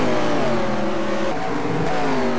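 Race cars run bumper to bumper down the front straight, engines loud and close, their pitch sliding as they pass in a continuous overlapping roar with no talk.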